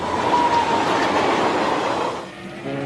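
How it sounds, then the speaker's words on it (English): Heavy freight train hauling tanks and heavy military equipment, a loud steady rumble of rail cars rolling past with clattering wheels, easing off briefly near the end. "Tanks and other heavy equipment are moved in by train from Poland."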